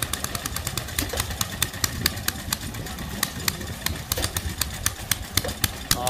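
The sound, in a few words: small stationary engine running water pump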